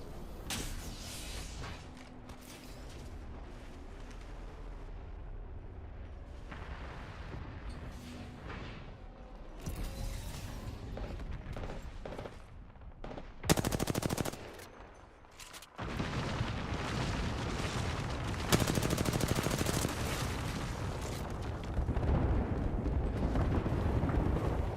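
Video game gunfire during a shooter session, with dense, loud bursts and booming impacts running almost continuously, a short lull midway, then heavier sustained firing.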